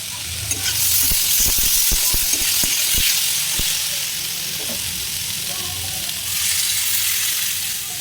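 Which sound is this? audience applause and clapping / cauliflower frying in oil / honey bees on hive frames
cauliflower frying in oil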